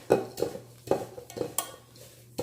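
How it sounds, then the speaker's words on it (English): Oatmeal chocolate chip cookie dough being stirred in a bowl, with a series of close clacking and scraping strikes of a utensil against the dish at an irregular pace, fairly quiet overall. "this is going to get a little bit more difficult to stir"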